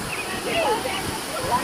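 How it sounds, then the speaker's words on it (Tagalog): Strong river current rushing at an 11-foot-deep swimming spot in Montalban, Rodriguez, Rizal, Philippines, a loud continuous wash with faint higher whistling tones over it. "sobrang lakas ng agos ng tubig dito sa 11 feet"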